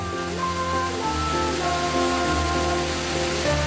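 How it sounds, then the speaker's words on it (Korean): Wonhyo Waterfall in a mountain valley, cold clear stream water pouring down, a steady full rushing roar close by, constant with no breaks and no voices. "1300년 전 그 모습 그대로 맑은 계곡물이 시원하게 쏟아지고 있었습니다"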